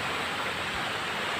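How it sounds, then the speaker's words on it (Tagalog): Heavy rain falling in a steady, dense hiss, loud and unbroken for the whole moment, with no voices over it. "Perting kusuga sa ulan sa Kalamansi guys"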